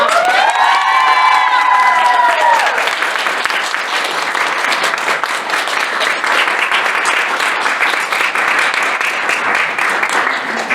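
A school poetry slam crowd erupts in loud, sustained applause with cheers and shouts, rising right after an announcer's voice and continuing dense and close for several seconds.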